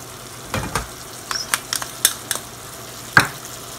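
Bottle gourd sautéing in a pan with soy sauce and salt, Filipino village-style ginisang upo: a soft sizzle under scattered stirring clinks and scrapes, about half a dozen short, fairly close spatula knocks against the pan.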